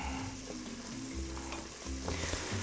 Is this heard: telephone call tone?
no